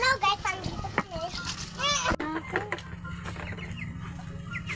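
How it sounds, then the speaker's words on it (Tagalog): Chickens cluck and squawk in short bursts close by, mixed with children's voices and chatter in an outdoor yard. "Tapos si MJ, busy magpakain ng manok."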